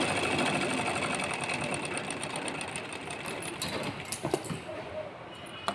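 Close, continuous sewing machine whirring as a double stitch goes along a seam, steady at first, then slowing with a few clicks near the end.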